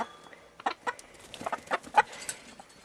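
A small bantam cockerel and his hens cluck in short, irregular bursts, several sharp calls close by over a quiet background.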